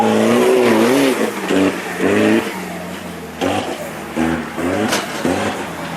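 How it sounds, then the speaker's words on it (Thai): Toyota Vigo and Isuzu D-Max standard 4x4 pickup trucks launch at an off-road trophy race, engines revving hard and rising in pitch, loud and close, with repeated gear-change surges across six seconds. "ออกมาแล้วครับสตาร์ทออกมาแล้วนะครับสำหรับในคู่นี้ โได้าและวีโก้ เจอกับอีซูซีแม็กครับ"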